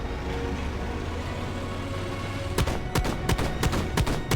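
A combat tank in a strategy video game fires its dual shotguns and cannon, a rapid run of sharp, loud bangs in the latter half over a constant mechanical rumble.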